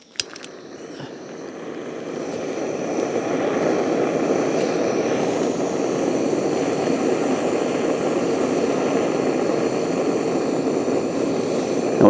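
A propane torch roaring steadily close by as it lights wood pellets in a pellet smoker, starting with a few clicks and then holding a loud, even hiss-and-roar throughout.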